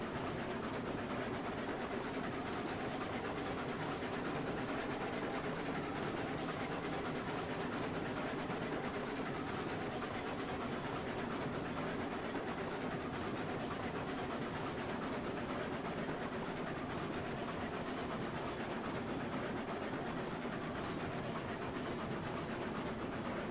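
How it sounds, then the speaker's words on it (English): Trains shunting around a rail yard in a video game, a steady continuous rumble of rolling stock and engine noise with faint clickety-clack, unbroken and even throughout with no talk. "Who wouldn't want to work in a train yard and start driving all the different trains and shunting them around?"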